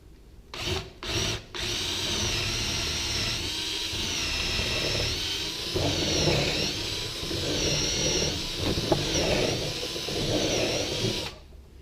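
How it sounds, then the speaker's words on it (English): Power drill boring 2 3/8 inch holes during a tool cart build, a loud sustained whine running almost nonstop after two short starting bursts, with small shifts in pitch as the bit cuts. "Now I'm going to drill my 2 3/8 holes, hopefully straight."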